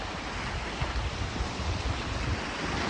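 Storm-driven waves churn against the Lake Superior shoreline on the Wisconsin side, a steady broadband roar with rolling surges, heavy wind buffeting the microphone throughout.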